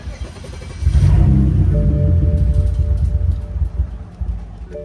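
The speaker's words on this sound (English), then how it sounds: "I'm gonna go ahead and crank the car till it kind of stalls out" A BMW 335i with the N54 engine cranks with the fuel pump power removed, a loud, close rumbling churn. It sputters on unevenly, catching briefly, then fades toward a stall.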